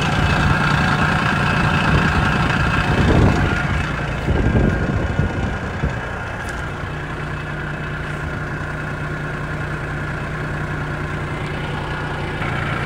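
An ISEKI TH235 compact tractor idles steadily with its PTO turning forward, a low, even diesel rumble that runs throughout with a few brief surges in the first six seconds.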